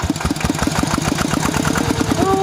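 ET 80 small walking tractor engine idling softly with a steady, even chugging beat, close up and continuous with no talking.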